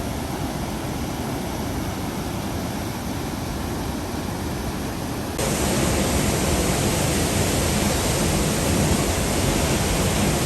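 A stream flows toward a waterfall on a rugged mountain trail, making a loud, continuous broadband rush of water that grows stronger halfway through, with no voices.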